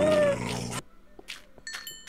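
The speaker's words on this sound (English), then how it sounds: "Oh, crap. That's a dog?" A wolf (dog) in the Minecraft video game gives a loud, rough growling bark up close, followed by a few short, fainter yips and clicks with quiet gaps between them.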